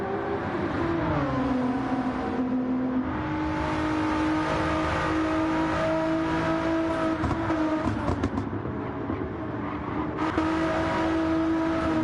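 Race cars lap the Interlagos circuit in a GT racing video game, engines droning loudly and continuously with shifting pitch as several cars run close together through gear changes.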